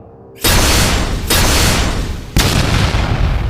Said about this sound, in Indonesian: Ledakan itu mengguncang tanah, membuat retakan baru di permukaan.